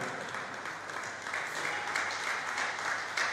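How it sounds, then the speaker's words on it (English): An audience at a pest control association panel session applauds the National President of the Pest Consortium of Nigeria. Dense, even clapping fills the room and holds steady throughout. "I want us to give a round of applause to the National President of Pest Consortium of Nigeria"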